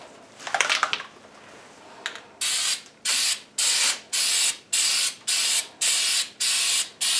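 An aerosol can of Flex Seal rubberized coating spraying in a run of about eight short, loud hissing bursts with brief pauses between them, after some faint handling noise at the start.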